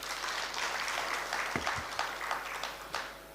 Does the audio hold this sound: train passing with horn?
no